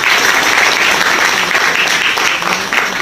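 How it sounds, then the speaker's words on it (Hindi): Loud, dense applause from an audience at a business plan meeting, a continuous wash of clapping hands lasting the whole stretch with no pauses. "सबके लिए एक बार जोरदार ताली बजाना जरा।"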